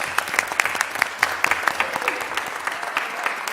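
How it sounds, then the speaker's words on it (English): Applause breaks out at a city council meeting to welcome a new city manager, a steady patter of many hands clapping at moderate volume, fairly close, with no talk over it. "give Christian a round of applause and then welcome her as new city manager."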